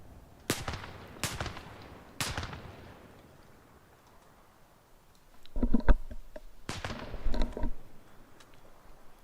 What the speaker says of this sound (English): They do now, however, because LAV just opened fire.